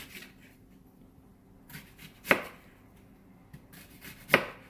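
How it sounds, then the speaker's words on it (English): A knife cuts through pineapple into chunks for Hawaiian-style chicken kebabs. Two sharp, crisp chops stand out, with a few softer cuts between them, close and clear against a quiet background. "So I'm just going to kind of cut like that, turn flat again, cut like that, keep turning."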